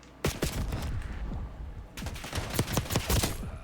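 Automatic rifle fire rattles through a Black Ops 6 gunfight, two rapid bursts of close, punchy shots separated by a short pause.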